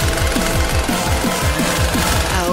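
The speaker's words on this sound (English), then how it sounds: "The chainsaw is a brilliant idea." A chainsaw chops through a block of jelly, giving a loud, steady run of rapid, evenly spaced mechanical pulses with a rattling, jackhammer-like beat and no pauses.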